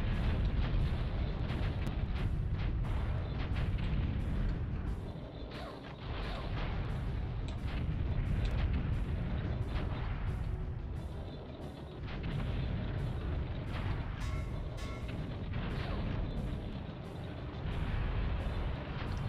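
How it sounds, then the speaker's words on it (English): Tank battle in BattleTanx: Global Assault, with a steady barrage of rapid cannon fire and repeated explosions, loud and rhythmic, under a constant rumbling low roar. "we're sneaking in quietly and destroying all the tanks"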